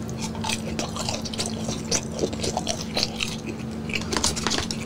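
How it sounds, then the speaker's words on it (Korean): Close, steady wet chewing and smacking while eating boneless fried chicken from Puradak, with moist mouth noises running continuously and moderately loud, no talk. "이게 쩝쩝거리는 거지."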